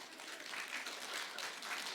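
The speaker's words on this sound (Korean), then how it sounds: "왜 박수치고 그래요?" A church congregation applauds during a Sunday worship service, soft and distant, a steady wash of clapping lasting a couple of seconds.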